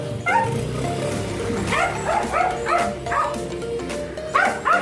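A dog barks and yips repeatedly, close and loud, in a string of short, high, whimpery barks spaced about half a second apart.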